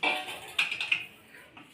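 Pots and dishes being handled for washing in a home kitchen, with a few bright metallic clinks and clatters close by, brief and irregular, and no talking.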